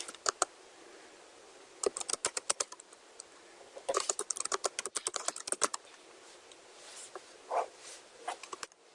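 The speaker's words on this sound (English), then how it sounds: "I'm going to just type in 5G networks" Typing on a computer keyboard comes in quick irregular bursts of close clicking keystrokes separated by short pauses, with no talk.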